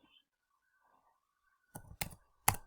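Three sharp, quiet keystroke clicks on a computer keyboard come in quick succession after a near-silent pause.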